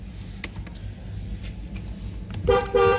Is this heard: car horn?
yes